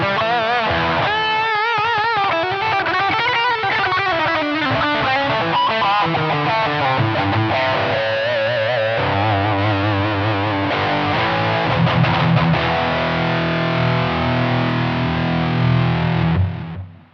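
A heavily distorted, high-gain electric guitar through a Pocket POD plays continuous riffs and chords, thick and saturated throughout, then stops abruptly at the end.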